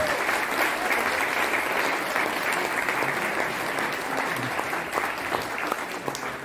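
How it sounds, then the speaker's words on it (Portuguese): A Rotary Club of Itaquaquecetuba gathering breaks into sustained applause, a dense, even wash of many hands clapping at steady loudness throughout. "quero pedir uma salva de palmas a todos vocês"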